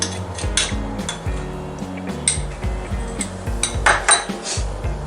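Maple bourbon glaze with Karo syrup being mixed in a pot for BBQ pork ribs: repeated clinks and scrapes of a utensil against the metal pot, moderately loud and close, in an uneven stirring rhythm.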